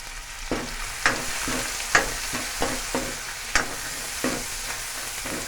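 Ginger, garlic, chillies and onion frying in a pan while dal is cooked, a steady hissing sizzle punctuated by regular scraping stirs of a spoon against the pan, close and with no voices.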